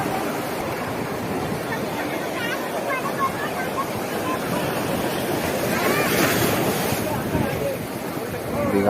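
Big sea waves crash against rocks at Digha Mohona, a continuous loud roaring surge with wind buffeting the microphone, swelling into a heavier crash near the end.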